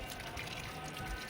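Water poured into a potted plant, a steady and fairly quiet rush of liquid running throughout.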